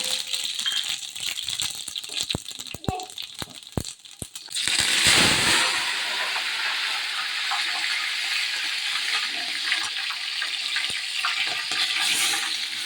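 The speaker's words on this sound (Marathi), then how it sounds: "तर आता जिरे टाकले." Cumin seeds dropped into very hot oil after mustard seeds, preceded by scattered clicks and taps, then a sudden loud burst of sizzling that settles into a steady hiss, close up with no talking.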